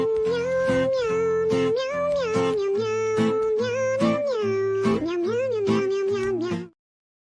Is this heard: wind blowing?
no